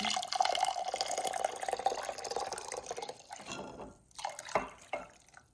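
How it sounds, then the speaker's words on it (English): Just-boiled water from a kettle pours steadily into vinegar in a container with a gurgling, rising fill, then tapers to a few separate splashes and drips. "I have here just boiled water that I have from my kettle, and then just pour it in"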